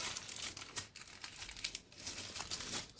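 Paper is crinkled and creased while its four corners are folded up into a diamond shape for an origami kettle, giving soft, close crackling rustles with brief sharper crinkles and no talk.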